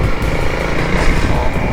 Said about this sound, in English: let's get back on the bike